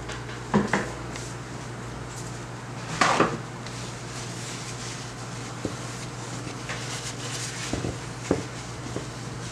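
Kitchen cleanup around pans while baking banana nut bread: scattered clinks and knocks of cookware and utensils, a few sharp clatters over a steady low hum, moderately close with no speech.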